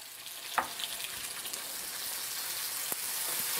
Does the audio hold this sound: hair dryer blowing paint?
no